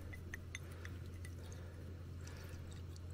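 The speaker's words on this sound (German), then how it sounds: "wir haben jetzt hier einen Druck aufgebaut, wo das Wasser automatisch rausläuft" Filtered water runs out of a pressurised, non-electric filter into a glass, heard as faint trickling and light dripping over a steady low hum, quiet throughout.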